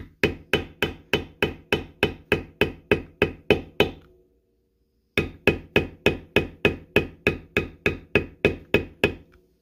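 A mallet strikes a leather beveler tool in a steady run of sharp, evenly spaced knocks, pausing for about a second before another even series of taps, close and loud with no talking.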